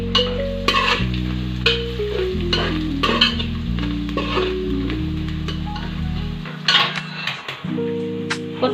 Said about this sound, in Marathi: त्यामध्ये थोडीशी कोथिंबीर टाकून कोथिंबीर परतून घेणार आहे